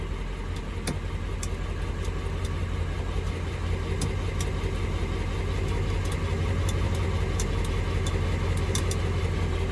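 A steady truck engine idles continuously with a low rumble, joined by faint scattered clicks and ticks.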